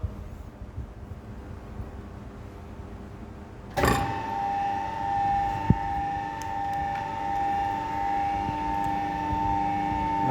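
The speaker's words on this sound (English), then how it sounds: "Now you can start the motor." A three-phase electric motor connected in delta starts with a sudden surge, then settles into a steady hum with a strong whining tone close by. The hum carries on evenly, with one brief click partway through.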